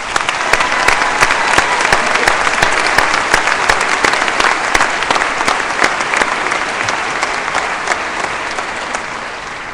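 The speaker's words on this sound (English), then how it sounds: "Please, again, a round of applause" A large audience at a spring university commencement ceremony applauds steadily, a dense and loud wash of many clapping hands that holds for about ten seconds.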